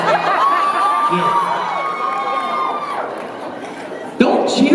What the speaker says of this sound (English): Don't cheer for that shit.